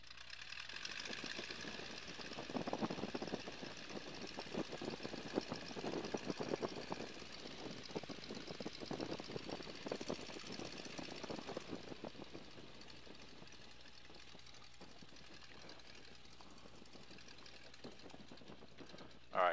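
A 1942 Boeing Stearman biplane's engine runs steadily as the plane taxis down a runway, a continuous rough drone with a slight rise in power partway through and a persistent hum throughout.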